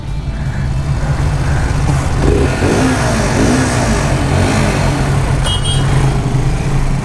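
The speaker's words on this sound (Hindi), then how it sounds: "भाई टनल में आपको साउंड सुनाऊं बाइक की," Motorbike engine roaring loud and steady inside a tunnel, its low rumble echoing throughout with a slight rise in revs partway through.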